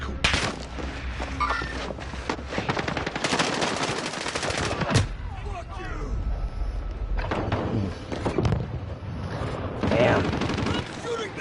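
Rapid bursts of gunfire crackle repeatedly across the span, loud and dense, with shouting voices mixed in between volleys.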